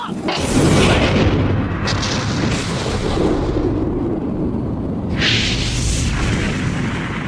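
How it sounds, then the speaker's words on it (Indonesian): Heavy booming cannon blasts from the One Piece anime, with a long rumbling roar behind them, loud and close, a second burst landing about five seconds in. "Zoro meminta Nami menyalakan kembali sumbu meriam itu"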